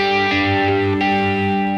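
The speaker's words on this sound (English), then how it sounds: "So effectively, I just added some spring reverb on top of that." Spring reverb added over a warm sustained synth or guitar pad, with a metallic splashy wash trailing behind each held chord in a steady, continuous texture.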